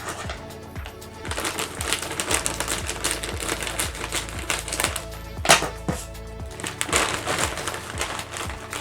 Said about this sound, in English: Open up the bag.